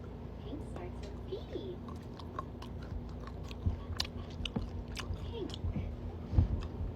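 Close-miked chewing of chocolate during a mukbang, with soft wet bites and smacks repeating irregularly and loudest near the end, over a low room hum.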